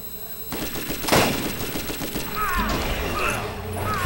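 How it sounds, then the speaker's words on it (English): Sniper rifle shots from the Borderlands video game ring out in a few sharp cracks amid busy game sound effects. "I like this sniper rifle"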